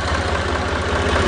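An HMT 3511 tractor's sealed three-cylinder engine idles in a low, even throbbing pulse, steady and close, with no talking over it.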